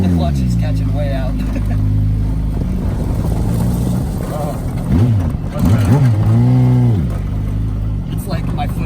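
A Yamaha ATV buggy fitted with a GSXR motorcycle engine revs up and pulls through the gears. The engine note rises and falls in sharp sweeps, loud and close, and people talk over it at the start.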